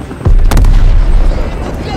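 A loud in-game explosion from Call of Duty: Modern Warfare 3, one heavy booming blast that erupts suddenly and rumbles on for about a second and a half.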